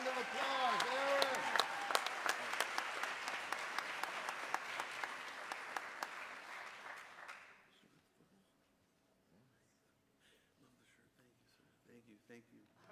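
An audience at a city's State of the City event applauds a man, a steady round of clapping with some voices mixed in, tapering off after about seven seconds into near quiet with faint stray sounds.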